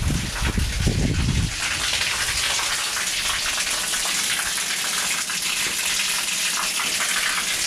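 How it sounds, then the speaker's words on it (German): Cold shower water pours steadily in a jungle camp on a tropical trek, a continuous close splashing hiss that starts with a brief heavier gush and then runs on evenly, with no talking. "So sieht hier eine Dusche aus."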